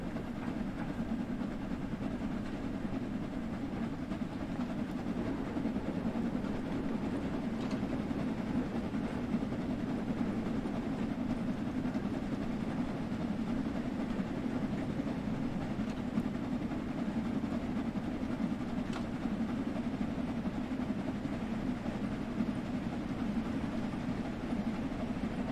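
A steam locomotive special train in Train Sim World 2 runs at steady speed with an even, low rumbling roar of wheels and rails and faint rhythmic clatter. The sound is constant and moderately quiet for the whole span, with no voices.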